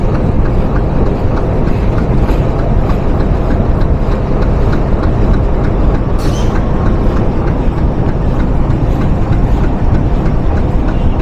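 A train rolls steadily into Gandaria railway station in Dhaka, Bangladesh, a continuous loud rumble of wheels and carriages with faint rhythmic clatter throughout and a brief high squeal partway through.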